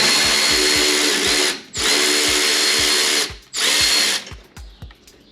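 A power tool whines loudly in three long bursts separated by brief pauses, removing 10 mm bolts on a 2022-or-later Toyota Tundra, followed by short clicking and rattling as it winds down.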